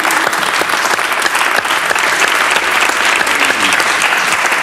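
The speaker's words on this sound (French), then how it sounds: "On applaudit." Studio audience applause on a French TV game show, a dense steady wash of many hands clapping, loud and close, running unbroken throughout.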